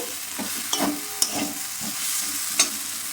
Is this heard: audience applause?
no